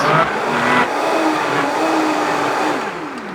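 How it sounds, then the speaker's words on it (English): A blender whirs loudly and continuously as it purées a red pepper mixture with water, its motor pitch holding steady before easing off at the end. "Just going to give that one more blend."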